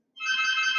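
A phone ringtone rings during a live technical job interview, a steady electronic tone with stacked bright harmonics that starts abruptly and holds loud and clear with no talk over it.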